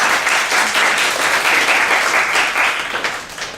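A church congregation applauds at a Saturday worship service, dense sustained clapping from a crowded hall, loud and continuous before tapering slightly at the end.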